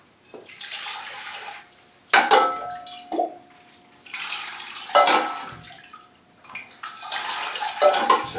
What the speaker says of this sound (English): Right, let's get some watering done.